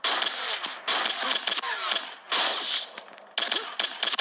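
Rapid bursts of gunfire from the military shooter video game Sierra 7, sharp clustered shots in several volleys with brief gaps, loud and close, mixed with game sounds and a voice speaking.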